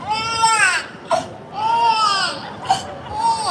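A voice imitates a wailing baby cry in a beatbox style, with rising and falling wails broken by short sharp gasps, close and loud.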